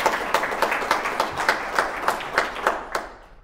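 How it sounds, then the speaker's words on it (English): An audience claps steadily for a few seconds, a dense, even patter of many hands that tapers off toward the end. "We can clap for that."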